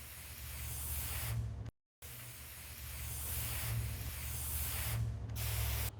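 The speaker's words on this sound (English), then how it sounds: "we're going to go ahead and mist each of the trays. This is where we actually put the hose on mist" A garden hose set to mist sprays over microgreen trays in a steady close hiss, cutting off briefly and resuming for several seconds at a time.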